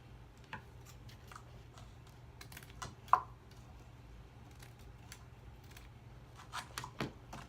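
Scissors snipping holly-patterned trim to length for a holiday picture frame, a scattering of small faint clicks and snips at close range in a quiet room.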